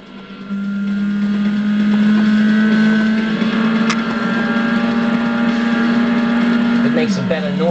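A sports car engine, Subaru Impreza or Mitsubishi Evo X, holds a loud, steady droning note while cornering, then dips and shifts pitch near the end as it lifts off. Wind and road noise run underneath.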